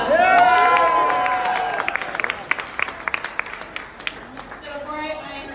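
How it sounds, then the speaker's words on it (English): Audience applause at a climate reception, scattered claps rising under cheering and voices, then thinning into sparse individual claps as the crowd quiets. "give yourselves a round of applause."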